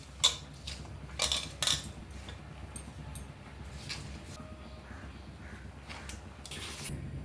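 Ginger garlic paste masala is mixed in a bowl, with a few sharp clinks and scrapes of a spoon against the bowl near the start and quieter scraping after that, with no talking.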